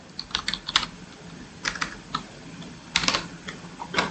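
Fingers type a terminal command on a computer keyboard in short bursts of crisp, close key clicks with brief pauses between the clusters.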